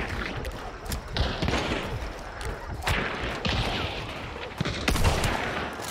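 Shotgun slug blasts in the game Hunt: Showdown, several sharp reports spaced unevenly over a noisy, rumbling background, with faint talk.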